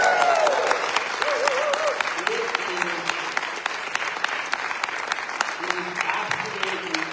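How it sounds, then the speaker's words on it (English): Audience applause at an Indivisible Central Ohio Q&A session with an author: a steady, dense round of clapping from a room full of people that holds throughout, with voices speaking over it. "Can we just give a big round of applause for what happened yesterday?"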